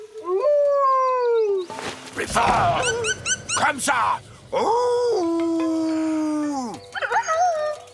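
A cartoon bird imitates a wolf howl: two drawn-out, wavering howls that rise and then hold steady, separated by a burst of busy animated noise. Voices speak between the howls.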